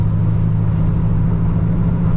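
A 1985 Chevrolet El Camino with an LS3 V8 and four-speed automatic cruises along, its engine giving a steady, low rumble that stays close and even, with no voices.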